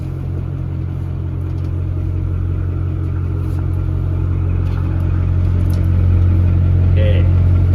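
Ford F8000 truck with a 636ci V8 engine driving, a steady loud low rumble from inside the cab that builds slightly toward the end, with faint talk underneath.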